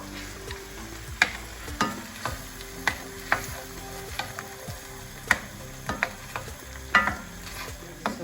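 Cream being stirred in a pan for bruschetta topping, a spoon scraping in repeated strokes with sharp clicks over a low sizzle, steady and close.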